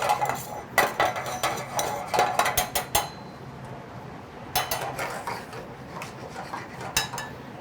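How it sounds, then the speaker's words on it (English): Metal spoon stirring mushrooms and lentils in a pan gives bursts of scraping clinks and knocks, close and moderately loud, separated by a quiet pause in the middle. "I'm just gonna give my mushrooms and my lentils a stir"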